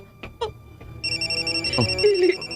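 A cellphone rings with a repeating electronic tone that starts about a second in and pulses steadily, while voices talk briefly before and around it.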